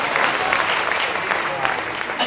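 Sustained audience clapping at a Hindi kavi sammelan poetry recital in Kotma, a dense steady patter of many hands filling the space, fairly loud and continuous throughout.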